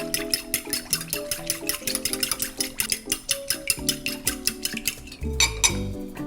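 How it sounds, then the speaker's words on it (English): A utensil briskly stirs a French toast mixture with sugar and cinnamon in a bowl, producing fast, steady rhythmic clinks against the dish, close and clear over soft background music. "And we'll mix this together well"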